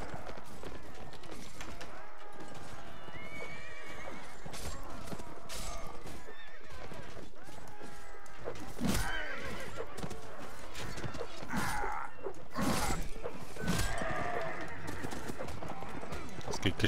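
Horses in Mount & Blade Warband whinny and neigh repeatedly over galloping hoofbeats and combat clatter, with someone talking over much of it.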